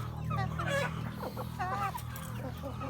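Backyard chickens and ducks clucking and calling in a soft, close cluster of short chirpy and throaty notes, steady low hum underneath and a faint voice in the background.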